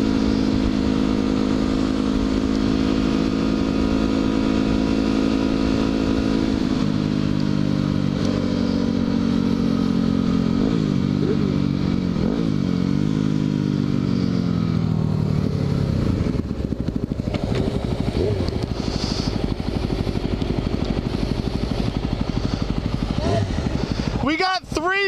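Several small off-road motorcycles ride alongside a Suzuki 1000, engines droning loudly and changing pitch as they rev and accelerate, with some clatter and voices near the end.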